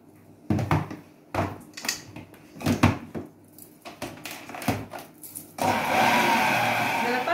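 Cake batter mixed with cocoa for a two-tone pumpkin ciambellone: a few loud thumps and knocks, then an electric mixer starts and whirs steadily and close for the last couple of seconds.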